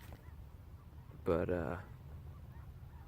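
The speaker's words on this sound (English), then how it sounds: "A lot of geese flying by. There's a ton of them flying back kind of behind me" A flock of geese flying by outdoors, with one brief burst of loud, nasal honks in the middle of a quiet stretch of background noise. A voice speaks faintly nearby.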